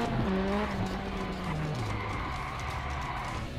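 A car in a racing video game brakes hard, with tires squealing in a wavering, falling pitch over a constant engine roar. The sound stays loud and continuous throughout, with no voices.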